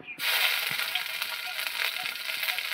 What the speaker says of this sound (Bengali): তেলের মধ্যে আমি প্রথমে দিয়ে দিচ্ছি অল্প পরিমাণে আদা,